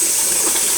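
A brief, steady gush of water running from a tap, close and continuous.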